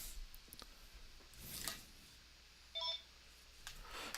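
A phone gives a short electronic beep, faint and brief among quiet room clicks and soft rustles.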